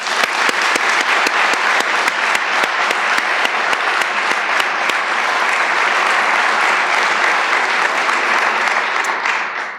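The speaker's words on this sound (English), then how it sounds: "please join me in thanking them by a round of applause." A large audience at a York, Pennsylvania State of the City address breaks into loud, sustained applause for city workers, with dense continuous clapping that fades slightly at the very end.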